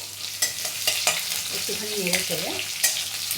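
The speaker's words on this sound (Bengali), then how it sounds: "আমি এই একটু অল্প পরিমাণ একটু পেঁয়াজ দিলাম, অল্প পরিমাণ। তারপর একটুখানি নেড়ে চেড়ে" Onions stirred with poppy seed paste in a frying pan: sharp spatula knocks and scrapes over a steady sizzle, with a brief murmur of voice in the middle.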